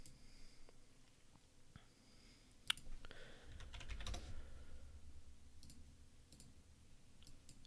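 Typing on a computer keyboard, heard as soft, faint clicks of keys at an irregular pace with a few louder taps, close and quiet with no talk.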